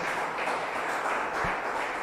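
A church congregation applauding, a steady wash of many hands clapping together, even and sustained for the whole stretch without audible voices.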